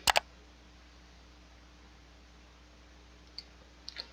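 A computer mouse clicked in a quick double-click at the start, then a few faint single clicks near the end over a quiet room hum.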